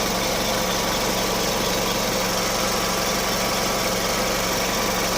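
An Isuzu MU-X engine idles steadily and loudly with an even mechanical hum, running alone without talk for the whole stretch.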